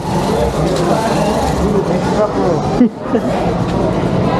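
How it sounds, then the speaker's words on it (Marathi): Dense street traffic jammed with cars and motorbikes in Banaras, a steady rumble of engines with crowd murmur, near and continuous, a brief dip in the middle. "झालं ट्रॅफिक जॅम"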